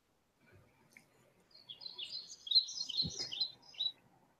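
Small bird at an open-air market in the Philippines, a burst of high chirps and tweets, fairly close, over a quiet background with a brief low knock.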